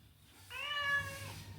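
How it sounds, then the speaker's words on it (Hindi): A cat lets out a single drawn-out meow, close and clear, about a second long, with no talking over it. "मेरे प्यारा सा बिल्ली"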